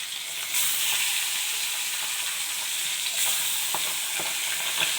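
Pabda fish frying in a pan over lowered gas, a steady bright sizzle with occasional crackles and pops up close, no voices.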